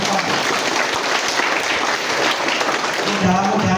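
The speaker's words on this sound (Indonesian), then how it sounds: "Tepuk tangan untuk Bitcoin" An audience at an economic gathering claps together, a dense and steady burst of applause that fills the room for several seconds, with a voice briefly audible near the end.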